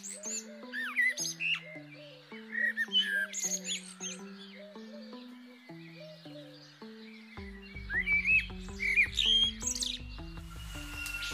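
Birds at Vembanad Lake in Kerala chirp, tweet and whistle in repeated bursts, some near and some farther off, over a soft, steady melodic tone in the background.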